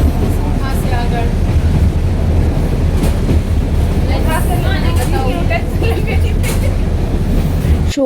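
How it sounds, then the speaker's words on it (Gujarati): A passenger train runs through a forest with a continuous rumbling rattle of wagons and wheels, loud and close throughout, with people talking over it. "અત્યારે અમારી ટ્રેન થઈ ગઈ છે ચાલુ"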